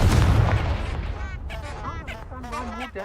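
A Confringo fire spell blasts in Hogwarts Legacy with a loud, booming burst that fades over a few seconds while a voice speaks over the tail.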